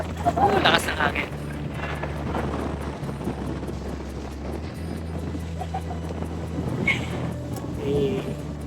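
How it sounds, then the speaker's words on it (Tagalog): Strong wind buffets the microphone in loud gusts on a top floor in Duluth, with a low steady hum underneath and a brief voice near the start. "Lakas ng hangin."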